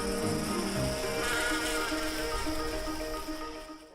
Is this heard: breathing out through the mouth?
no